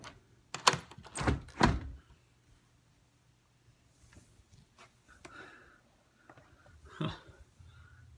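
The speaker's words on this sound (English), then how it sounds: "glass sliding doors which go out to nothingness." A glass sliding door in a room above a garage rattles and thumps as someone struggles to open it, with several heavy knocks close by and then quieter scrapes and clunks.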